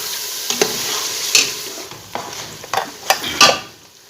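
Chicken cooked with yogurt is bhuna-fried in a pot, a loud steady sizzle with a spoon scraping and clinking against the metal several times at uneven intervals, close up and without talk.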